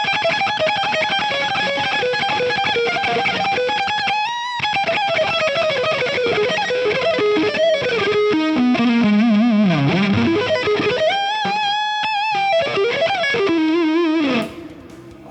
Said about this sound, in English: the most important thing in this this whole sound is the Fender overdrive